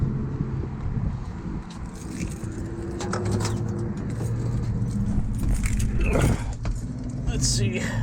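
Car keys jangle close by as a key is fumbled toward the door lock of a six-cylinder Ford Thunderbird at an outdoor street rod show, with someone talking over light metallic clinks.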